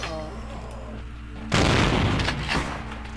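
Gunfire in the video game Vampire the Masquerade: Bloodlines breaks out abruptly midway, a loud, dense burst of shots and booms following a quieter stretch of game ambience with a low drone.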